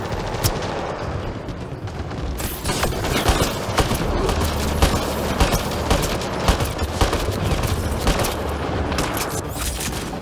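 Sustained gunfire and explosive bursts in a Mass Effect Andromeda space battle, with rapid automatic fire crackling continuously and loud booming hits throughout, dense and close with no pause.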